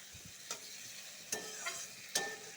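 Pointed gourd (potol) pieces frying in oil, a soft continuous hiss broken by a few distinct scraping stirs of a spatula in the pan, close and quiet.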